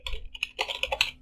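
Quick, uneven keystrokes on a computer keyboard, a brief burst of close, crisp clicks with short pauses between them.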